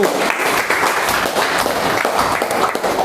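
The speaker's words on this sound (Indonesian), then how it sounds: "Kita beri tepuk tangan untuk kelompok 1." A classroom of students claps for group 1 after their presentation, a continuous dense burst of applause filling the room at close range, loud and even from start to finish.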